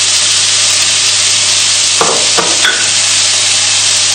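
Noodles cook in boiling water on a stove, a steady loud hiss and bubbling with a couple of brief knocks.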